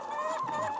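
Chickens raised for egg production clucking steadily on a farm, a dense close chorus of overlapping hen calls with no talk.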